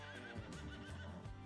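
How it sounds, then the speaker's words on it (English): Horses neighing in Farming Simulator 25, a couple of faint whinnies over soft hoof clip-clop and a low ambient hum, distant and quiet. "So here they are. The first horses"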